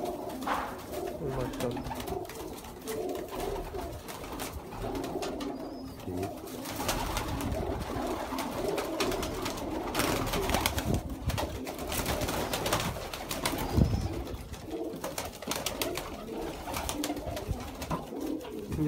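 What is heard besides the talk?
Sialkoti pigeons cooing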